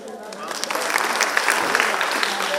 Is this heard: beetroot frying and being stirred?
no